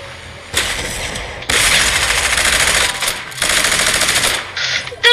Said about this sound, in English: They have a minigun.